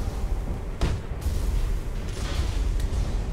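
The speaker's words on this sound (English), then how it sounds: "Who is shooting over here?" Gunfire in the sci-fi shooter Tribes Ascend: a sharp shot cracks out, then a few more distant bursts and pops ring over steady rumbling battle noise.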